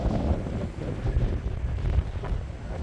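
Cold, gusty wind buffets the microphone on a blustery winter-like spring day in Albuquerque, a steady low rumble with rising and falling gusts and no talking.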